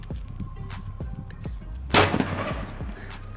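A sutli bomb firecracker explodes outdoors in a single loud, sharp bang about two seconds in, rising over a steady background of outdoor noise and scattered knocks.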